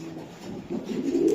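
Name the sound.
white racer pigeon hen cooing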